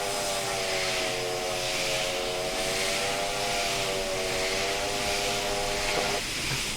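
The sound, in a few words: steam locomotive whistle in Train Sim video game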